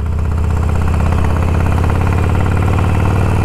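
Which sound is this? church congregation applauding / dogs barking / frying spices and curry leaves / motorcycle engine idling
motorcycle engine idling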